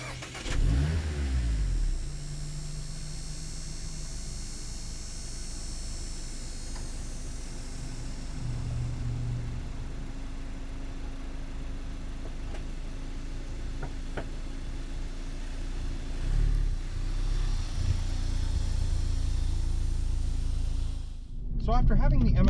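A 2020 Mazda MX-5 RF Grand Touring hardtop starts and pulls away, its engine revving and accelerating through gears at close range, rising louder toward the end; a voice is heard briefly over it.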